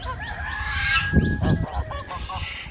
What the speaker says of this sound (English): He is a bad goose.